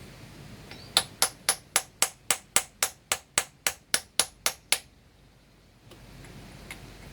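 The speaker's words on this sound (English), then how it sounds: "A socket about the same size as the core plug, line it up, give it a smack." A hammer smacks a socket to drive an engine core plug into place: about thirteen sharp metallic strikes in a steady, even rhythm, loud and close, followed by quiet.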